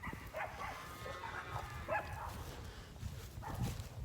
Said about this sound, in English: You probably hear the cows in the background